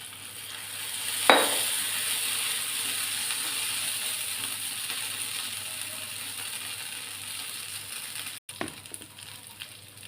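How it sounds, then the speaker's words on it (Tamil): Oil sizzles steadily in a hot pan while lollipop-style dosa cooks, a soft constant frying hiss with a brief metallic scrape near the start and another near the end. "இது எண்ணெய் ஊற்றிக்கலாம்."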